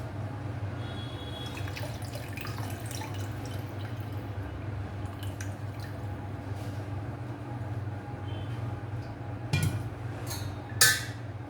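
Water drains from freshly made paneer, a steady trickling and dripping that runs throughout at an even level. A couple of brief clinks close in near the end.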